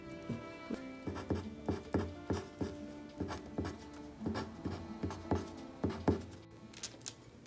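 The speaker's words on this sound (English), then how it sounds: "I have taken to tracing with my left hand." A pencil traces a design by left hand onto graphite transfer paper on an easel, giving close, quiet, rhythmic scratchy strokes in a steady series with no talking.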